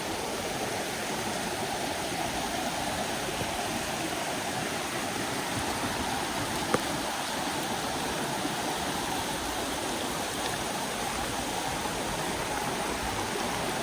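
Steady rushing water of a creek flowing continuously during a rain hike in Red River Gorge, a broad even wash of sound with no pauses, fairly close.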